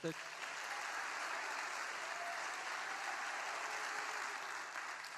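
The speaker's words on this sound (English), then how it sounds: "So let's get into a little bit of a clap now." TEDxNOVA audience at Nova SBE clapping on request, a dense, even wash of applause from a large crowd lasting the whole stretch, heard at a moderate distance.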